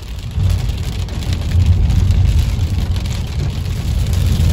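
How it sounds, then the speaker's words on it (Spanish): Heavy rain pours down in bright sunshine while out on the road, a loud, steady, dense roar that holds unbroken for the whole stretch with no talking. "Miren lo duro que está lloviendo y el solazo."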